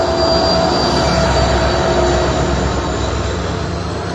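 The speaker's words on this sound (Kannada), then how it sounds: "ನೋಡ್ರಿ ಟ್ರೈನ್ ಹೊಂಟಾವ ನೋಡ್ರಿ. ಈಗ ಈ ತರ ಟ್ರೈನ್ ಬರ್ತದ." A train rolls past close by, a continuous loud rumble of wheels and cars with thin, sustained wheel-squeal tones riding over it, no voices.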